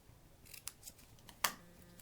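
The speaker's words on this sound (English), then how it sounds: "I'm just going to randomly cut" Scissors snipping a small paper strip for a handmade thank-you card banner, a few quiet crisp clicks followed by one sharper, louder cut, close up in a quiet room.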